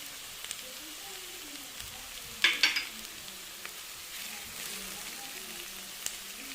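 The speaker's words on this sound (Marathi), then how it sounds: "आणि छान कांदा गुलाबी सर होईपर्यंत परतून घ्यायचं" Onion frying in a pan with salt and asafoetida, a soft continuous sizzle with a couple of brief sharper crackles from stirring, close but fairly quiet, with faint background voice.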